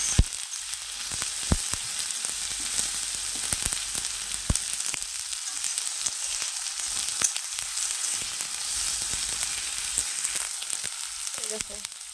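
Chopped garlic fries together in a pan with a continuous close sizzle, dotted with sharp clicks and taps from stirring over about twelve seconds, and nobody speaks.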